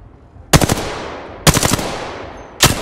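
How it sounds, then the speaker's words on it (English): Gunfire in the battle royale game Apex Legends: three loud, close bursts of rapid automatic shots, each followed by a decaying tail, spaced about a second apart. "Listen up, I'm getting shot at."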